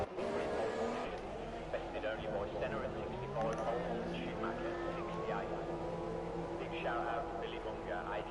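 Race cars in a Formula racing game pour out of a busy pit lane, with several engines whining and shifting pitch at once, mostly under steady commentary.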